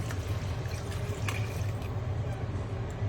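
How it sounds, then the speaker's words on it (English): Hot water poured into a pan for a one-pan dinner with Rotel and milk, a steady close trickle with light drips over a low background hum. "3 cups of hot water."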